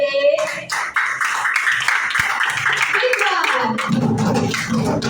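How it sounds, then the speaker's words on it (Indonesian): A class of sixth-grade students claps together in a classroom, a burst of hand claps riding over a loud voice talking throughout. "Tepuk tangan dulu dong untuk kelas 6C."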